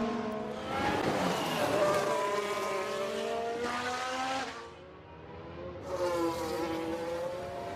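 F1 cars from F1 Manager 22 scream past during an overtake for the lead, their high engine whines sweeping up and fading in two or three passes, moderately loud with a brief lull between cars.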